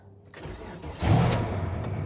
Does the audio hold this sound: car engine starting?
yes